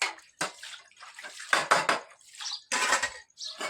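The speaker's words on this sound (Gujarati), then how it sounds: "મને તો બહુ વાસણ ઉટકતા આવડતું છે" Dishes, pots and pans being scrubbed and washed by hand in a Gujarati home kitchen, with clattering metal utensils and splashing water in irregular close bursts and no talk.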